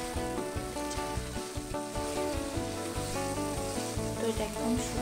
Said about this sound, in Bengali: তো এটা একদম শুকনো শুকনো যতক্ষণ না হচ্ছে নেড়ে যাব আমি